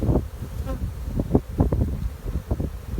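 Honeybees buzzing around two newly stocked hives outdoors, a close, fluttering drone that swells and dips in short bursts with a little wind noise behind it.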